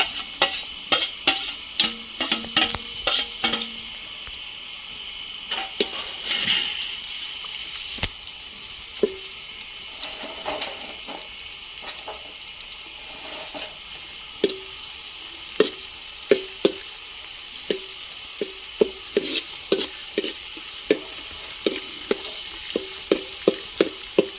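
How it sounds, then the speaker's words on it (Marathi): Ingredients frying in oil over a village wood-fired stove for a mutton dish, a steady close sizzle with frequent sharp clicks and stirring knocks that grow more regular toward the end. "हे तेलामध्ये टाकून घ्यायचं आणि चांगलं तळून घ्यायचं"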